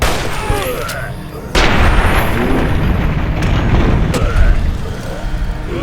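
Gunfire in the game Fallout New Vegas: two sharp booming shots, one near the start and another soon after, followed by a rumbling explosive roar with a voice faintly present.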